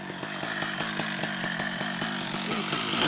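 Petrol chainsaw running loud and steady while cutting firewood outdoors, its engine whine pulsing in a fast regular rhythm with no talk over it.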